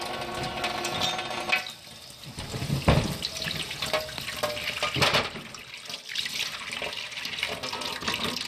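Hot tap water runs and splashes steadily during the cleaning of a blue tongue lizard stuck in bitumen tar, a close, continuous gush with shifting splashes and small surges, no voices.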